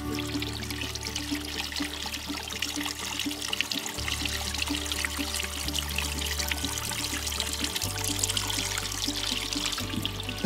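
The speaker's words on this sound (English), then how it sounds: "I could sit down here for days and just listen to that water run" Steady rushing and trickling of a water stream, continuous and moderately loud, with a low rumble underneath and no voices.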